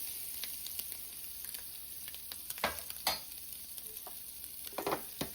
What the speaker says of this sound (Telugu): ఒక ప్యాన్ పైన గీ వేసుకొని కారం పూసుకున్నాం ఎగ్స్ 4 రోస్ట్ చేసుకోవాలి